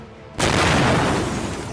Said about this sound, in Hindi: एक जोरदार धमाका होता है।